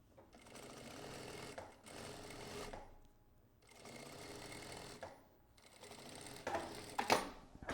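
A sewing machine runs in bursts, stitching an underarm sleeve seam on a garment, with steady whirring runs separated by short pauses and a few clicks near the end, fairly quiet and close.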